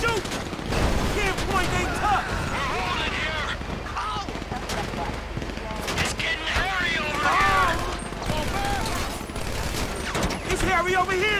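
Rapid bursts of gunfire in GTA 5 crackle almost continuously during the Paleto Score heist mission, loud and dense, with excited voices talking over the shooting.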